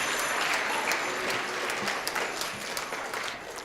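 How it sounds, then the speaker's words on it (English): Audience applause at a school band concert, a dense steady patter of many hands clapping at moderate distance, gradually thinning toward the end. "you can give yourselves a round of applause"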